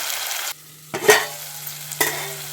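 Tomato pieces cooking in a pan give a soft, steady sizzle, broken by a few brief louder clatters of stirring, with a low hum running underneath.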